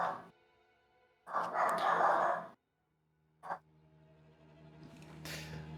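Genji the dog gives a couple of short barks, one longer burst and then a brief yap, heard faintly at a distance between stretches of quiet, with low voices nearby.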